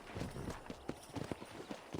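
Rapid horse hoofbeats clatter in a quick galloping rhythm, fairly close and steady, with no voices, in the video game Red Dead Redemption.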